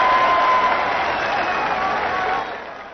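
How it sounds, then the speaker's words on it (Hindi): A big crowd at Imran Khan's political rally at Minar-e-Pakistan claps vigorously in a broad, steady wash, with a faint crowd murmur, before fading off in the last half second. "पुरजोर तालियां"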